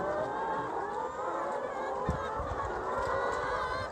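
Chickens in a commercial deep litter poultry house make a dense, continuous wash of clucking and murmuring from a large flock, steady and moderately loud with no standout calls.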